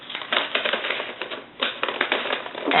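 Newspaper sheets being creased and folded backwards to shape a gift bag, giving close, crisp papery crackles and rustles in short uneven bursts with brief pauses, no talking.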